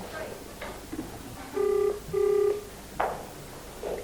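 A telephone rings out on a live call to Ken Morgan, the car dealer, giving two close, clear electronic ring bursts in quick succession, with faint talk and handling noise around them.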